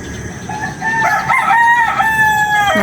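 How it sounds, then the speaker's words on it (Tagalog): Roosters crow loudly and close by in the early morning, one long cock-a-doodle-doo call overlapping with others and some clucking, with no talking. "Nagigising na po ang mga manok."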